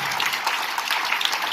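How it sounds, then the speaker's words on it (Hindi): Audience applause fills a lecture hall during an education presentation in Kanpur, dense continuous clapping from many hands, fairly loud and steady throughout. "उस अपॉर्चुनिटी के लिए एक जोरदार ताली होना चाहिए"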